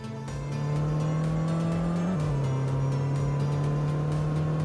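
A Toyota car accelerates hard from standstill to 100 km/h, its engine note rising steadily with a brief dip at a gear change, loud and close from inside the cabin, no talking.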